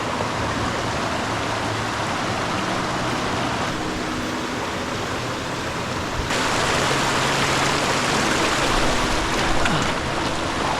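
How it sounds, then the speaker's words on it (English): A river running heavy with spring snow melt on the Hancock Loop Trail: a steady broadband rush of flowing water, close and loud, swelling slightly louder partway through. "the snow melt is coming down, the rivers are running heavier"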